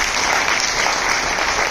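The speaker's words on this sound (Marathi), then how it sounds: "त्यांच्यासाठी टाळ्या होऊ द्या" An audience at a Marathi book launch ceremony claps, a dense, loud burst of applause filling the short moment with no break.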